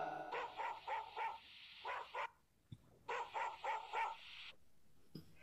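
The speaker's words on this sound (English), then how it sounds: "D for dog." Dog barking in a children's alphabet nursery rhyme, two clear bursts of rapid repeated barks with short pauses between, fairly close and alone.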